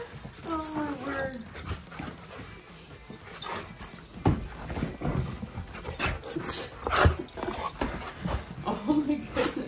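A husky and a malamute play, with short whines and whimpers, scuffling and panting bursts near the microphone, while people talk and laugh over the romp.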